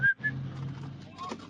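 A person whistles two short, clear notes, then breathy, faint sounds follow.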